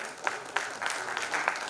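A short burst of audience applause at a government digital-transformation conference in Guwahati, steady and moderately loud with a few sharper claps standing out.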